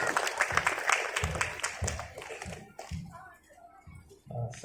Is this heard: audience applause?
yes